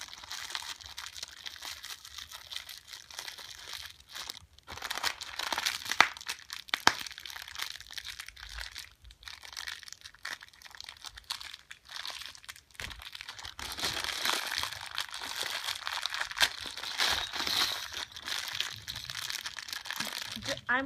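Packaging for a Ghostbusters level pack being opened by hand, with steady crinkling, tearing and rustling of plastic and cardboard, fairly close and moderately quiet, with short pauses and a brief spoken line.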